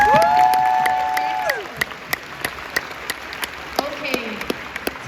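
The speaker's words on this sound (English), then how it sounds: "Can we have a round of applause for the fan question?" A convention Q&A audience at Galaxycon claps: after a voice fades, scattered sharp claps ring out at an uneven pace, thin and separate rather than a full ovation.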